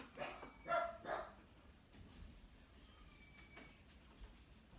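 A dog barks indoors, three quick barks in a row at the start, then a stretch of quiet room tone.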